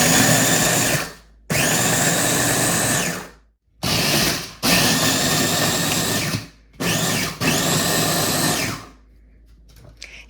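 Food processor pulsing graham crackers into crumbs for a no-bake creamsicle cheesecake crust: loud whirring bursts of a few seconds each, separated by short silent gaps, with no talking.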